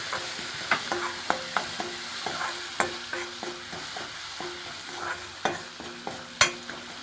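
A spoon stirs lemon rice in a pan, giving repeated sharp scraping taps at an uneven rhythm over a steady low sizzle. The sound is close and there is no talk.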